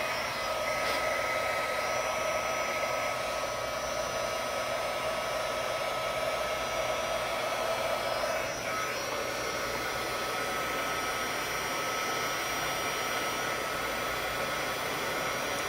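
A heat gun blows with a steady, loud, airy whoosh and faint whine, warming up continuously close by for melting embossing powder.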